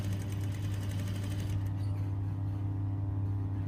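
Sewing machine runs steadily up close, stitching an invisible zip into a lined skirt with a continuous whirring hum that settles slightly quieter partway through.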